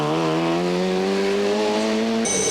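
An Opel Astra rally car drives along a tarmac stage at the 1996 Rallye du Valais in Switzerland, its engine note rising steadily in pitch under acceleration before abruptly cutting off into a higher whine near the end.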